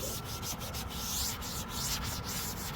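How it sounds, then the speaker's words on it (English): A bristle brush scrubbing oxidized, faded black plastic car trim with light pressure, a steady close rasping scrub broken by quick rhythmic strokes, with no voices. "Let's go ahead and scrub that. You don't have to add pressure. You just let the bristles do the job."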